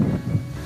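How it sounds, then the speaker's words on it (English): Wind gusts buffet the microphone outdoors in low, uneven rumbling bursts that swell and fade across a short moment, with no speech. "it's really windy now"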